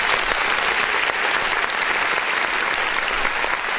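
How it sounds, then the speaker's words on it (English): An audience claps steadily at a live music review show, with dense, even applause filling the whole stretch and no break. "Let's clap one more time for that."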